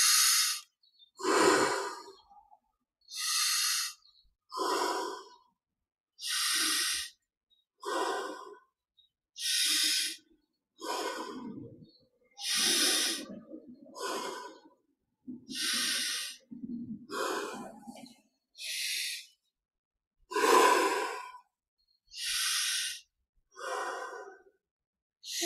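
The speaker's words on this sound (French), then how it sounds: "Inspire par le nez, expire par la bouche." Slow, deep guided-meditation breaths, drawn in through the nose and pushed out through the mouth, repeat in a steady rhythm of about a dozen close, audible inhales and exhales with short pauses between, no talking.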